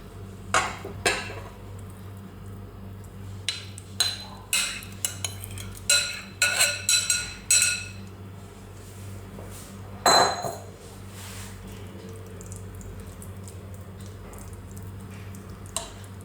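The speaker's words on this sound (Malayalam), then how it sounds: "നമുക്ക് ബാക്കിയുള്ള മുട്ടയുടെ കൂട്ട് ഇതിൽ മുകളിലേക്ക് ഒഴിച്ചു കൊടുക്കാം." Egg mixture is poured over a potato and chicken filling in a pan, amid a cluster of clinks and utensil taps on cookware, then a quieter stretch with one more clatter.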